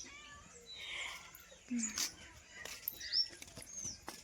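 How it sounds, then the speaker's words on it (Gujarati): A cat meowing indoors, with a few short, faint mews amid soft background noise while someone talks nearby. "બિલ્લી ચોર ક્યાં હતી ક્યાં હતી હું તને યાદ કરતી હતી"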